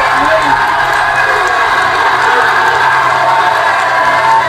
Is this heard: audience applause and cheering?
yes